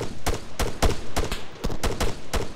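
Rapid bursts of gunfire in the military shooter Arma 3, roughly seven sharp loud shots at an irregular, quick rhythm, each cracking cleanly with no talk over them.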